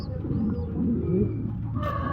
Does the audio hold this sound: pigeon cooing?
yes